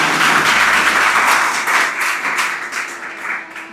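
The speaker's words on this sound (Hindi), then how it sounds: "मैं चाहूंगी कि एक बार जोरदार तालियां इसके लिए होनी चाहिए" An audience at a poetry performance on female foeticide gives loud, sustained applause, a thick continuous roar of many hands clapping that slowly tapers off near the end.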